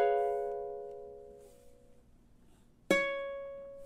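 Ukulele playing a measure of a song, a plucked chord ringing and fading, then a second sharp strum near the end, solo and fairly quiet.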